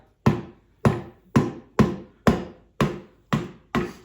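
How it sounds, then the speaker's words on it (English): Eight hammer blows strike the side of a tire to free it from the rim, each a sharp, loud thud falling in a steady rhythm about half a second apart, with nothing else heard. "I will hammer the side of the tire"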